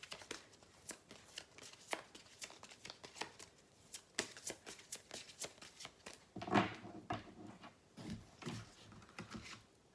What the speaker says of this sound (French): On va vous tirer une carte de conseil.